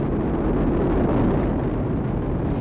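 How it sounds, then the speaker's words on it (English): The Artemis 1 rocket roars as its four RS-25 engines and two solid rocket boosters drive it upward, a dense, continuous rumbling blast heard from a distance with no talk. "All four RS-25 engines on the core stage and two solid rocket boosters now propelling the vehicle at 128 miles"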